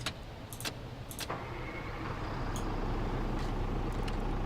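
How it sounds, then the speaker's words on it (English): A bus engine in Bus Simulator 2016 cranks and starts after a few sharp clicks and clunks, then settles into a steady, close idle rumble that holds evenly to the end. "turn the lights on, start the engine."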